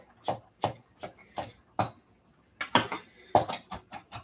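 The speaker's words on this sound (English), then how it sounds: "So I'm just going to give this kind of a rough chop." A knife chops roughly through fresh parsley, stems included, on a board in a home kitchen: about a dozen sharp, close knocks in an uneven rhythm, loud and clear with no talking.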